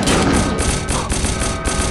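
Rapid, dense gunfire from a regular Gatling gun in the mobile game Fallout Shelter, a loud sustained stream of overlapping shots and thuds across the whole moment.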